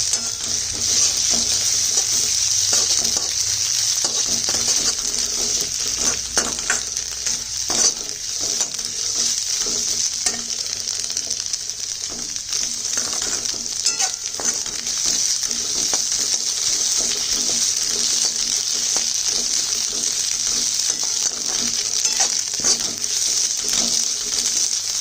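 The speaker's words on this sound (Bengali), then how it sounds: "ডিমটা দিয়ে দিয়েছি। ডিমটা এবারে স্ক্র্যাম্বলড হয়ে যাবে।" Beaten egg scrambles in a hot pan for Chinese fried rice, giving a continuous loud sizzle with occasional scraping and stirring sounds over the whole stretch, without any speech.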